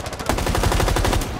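Rapid automatic gunfire in Rainbow Six Siege, a dense close burst of fast repeated shots lasting over a second, loud and continuous.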